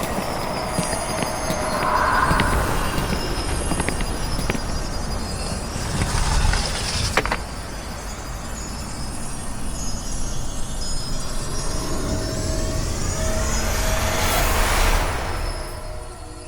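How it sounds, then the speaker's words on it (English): A train rumbles steadily on the tracks with metallic wheel squeals and a long horn-like tone rising near the end, close and continuous with no voices. "I hear a train horn. Could be wheels slipping on the tracks"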